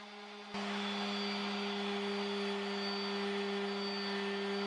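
A DeWalt power sander starts up abruptly and runs steadily on a wooden mid-century modern nightstand, a loud continuous whine with a constant hum, close and alone.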